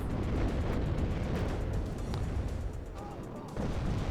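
Tank cannon fire and a Bradley's TOW 2 missile hitting an M1IP tank in a war strategy video game, heard as dense rumbling booms and blasts overlapping continuously, loud and heavy, with a faint whistling streak partway through.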